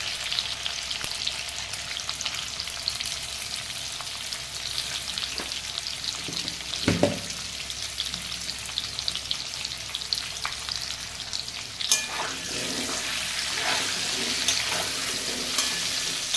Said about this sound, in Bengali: আলুটাকে চাপা দিয়ে ভেজে নেব।